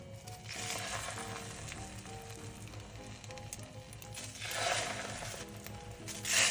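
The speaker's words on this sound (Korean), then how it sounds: "계란물을 묻혀 구워주세요." Egg-coated beef slices for yukjeon frying in plenty of cooking oil in a pan, a steady close sizzle with brief louder crackling swells.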